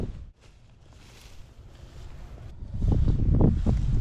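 Wind gusting across the microphone outdoors while fishing as a weather front approaches, a low steady rumble that swells noticeably louder and more blustery in the last second, with no talking.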